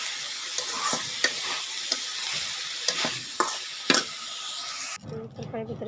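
A vegetable curry of beans, cauliflower, potato and aubergine sizzles steadily in a pan under repeated sharp stirring scrapes, and the sizzle cuts off abruptly near the end, giving way to quieter clatter.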